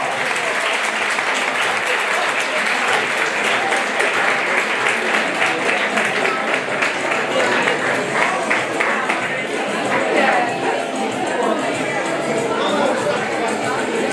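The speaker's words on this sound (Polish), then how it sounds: "Wielkie brawa!" Crowd applause at a boxing and K1 fight night gala, continuous loud clapping mixed with crowd noise and chatter, with an announcer's amplified voice heard over it.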